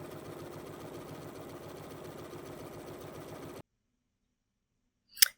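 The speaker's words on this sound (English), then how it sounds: "stitching a zigzag over that folded edge of our spine" A Bernina B 990 sewing machine stitches a zigzag over the folded edge of a fabric spine, whirring with a steady rapid mechanical rhythm for about three and a half seconds, then stopping, followed by a brief click.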